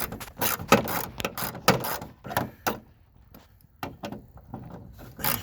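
A ratchet fitted with a 10 mm socket works the grill bolts on a 1997 second-generation Dodge Ram, giving quick bursts of sharp clicking separated by short pauses, close and fairly quiet with no speech.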